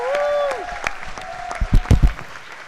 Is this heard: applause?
yes